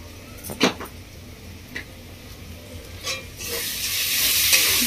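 Spices with turmeric and salt fry in a pan for a fish-head and mung dal dish, with a few scraping stirs before a loud, steady sizzle swells up close.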